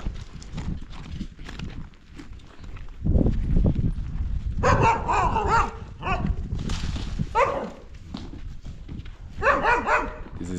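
A new dog barks in short bursts at a rural home with goats nearby, loud and close, the barks interrupted by pauses and scuffling movement.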